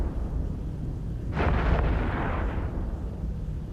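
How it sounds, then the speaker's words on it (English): A spaceship blowing up in the space combat game EVE Echoes, a single deep booming explosion that swells midway and rumbles off over a low hum, no talk. "And the space pan has been destroyed."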